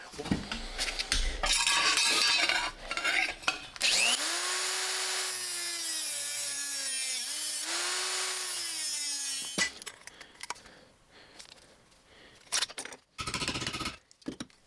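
Sheet metal flange of a Triumph TR4 battery tray being slit with a cutting tool, with bursts of harsh rasping, then a sustained whining cut lasting several seconds, and afterward scattered scrapes and clanks close by.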